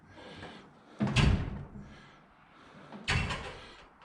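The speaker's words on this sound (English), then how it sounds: "See, the door shuts again." A car door shuts twice on a vehicle being checked for alignment, two solid close thuds about two seconds apart with faint mechanical rustle between them.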